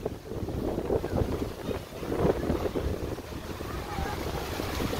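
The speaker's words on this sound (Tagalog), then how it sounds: "It's very windy beach." Strong wind buffets the microphone on an open beach in Turku, a steady roaring rumble with gusts swelling and easing throughout, loud and close, with no clear voices over it.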